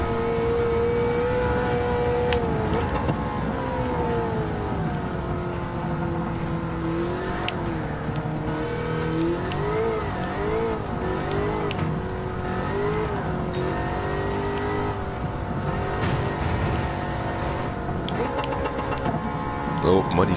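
Simulated LS9-swapped Pontiac Trans Am V8 roaring in Gran Turismo 7, a loud, continuous engine howl rising and falling through gear changes, with a voice talking over it.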